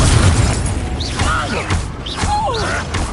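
Confringo spell blasts in Hogwarts Legacy come as a burst of booming impacts followed by swooping, whistling magical effects and creaky debris, dense and loud throughout.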